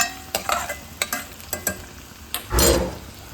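Chopped capsicum tossed into a hot pan and stirred, with a series of sharp scraping and stirring clicks over a low sizzle, ending in a louder burst of frying.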